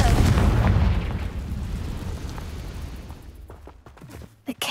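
A Confringo explosive spell blast in Hogwarts Legacy, a loud booming burst that rolls off into a long fading rumble, followed by a few faint clicks as it dies away.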